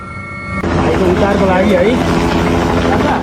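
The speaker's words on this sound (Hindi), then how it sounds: "रेस्क्यू के लिए, बचाने के लिए हेलीकॉप्टर लगाए जा रहे हैं।" Rescue helicopters working over a Nepal flash flood, a loud, continuous rotor and engine drone that starts abruptly and holds steady, with someone speaking over it.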